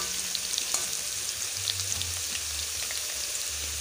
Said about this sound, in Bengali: আলুগুলো খুব ভালো করে ভেজে নিচ্ছি।